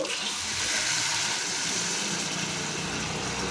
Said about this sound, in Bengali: চলো এবার এর মধ্যে জল দেওয়া যাক